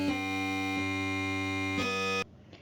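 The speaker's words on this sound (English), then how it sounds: "If you chose an instrument like piano chords," A piano-chords instrument in FL Studio sounds a sustained harmonic chord, with a few soft re-attacks spread through it, then stops sharply into near silence; no talking.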